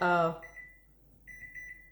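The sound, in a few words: timer alarm beeping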